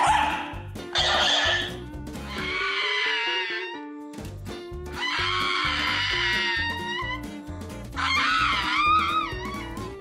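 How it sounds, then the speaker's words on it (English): A Shiba Inu dog barks and yips at a Shiba stuffed toy, loud close bursts of high-pitched whining barks coming in several groups with brief pauses between them. "Here's where a Shiba Inu meets a Shiba stuffed toy."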